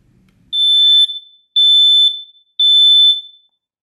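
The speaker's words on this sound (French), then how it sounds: "Il n'y a plus qu'à appuyer sur le bouton test en façade pour tester l'alarme." A Siemens SD9L smoke alarm sounds three loud, piercing electronic beeps during a test-button check, each about half a second long, separated by short silences.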